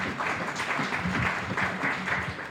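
Audience applause following a thank-you at a technical training institute event, steady continuous clapping from a crowd, moderately loud and sustained throughout with no speech over it.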